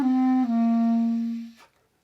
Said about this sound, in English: One of the most common clarinet complaints is getting that sort of fuzzy, airy sound like this.